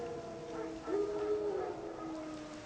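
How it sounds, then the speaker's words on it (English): Wild dogs in The Witcher 3 give a drawn-out howl that rises through the middle, carried over a steady wash of outdoor game ambience with no talking. "No. Wild dogs. Yes. More dangerous than wolves."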